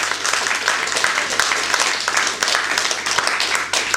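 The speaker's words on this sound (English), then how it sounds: "A round of applause." An audience at a close-up magic competition breaks into dense, loud, sustained applause that fills the stretch from start to finish with no voices over it.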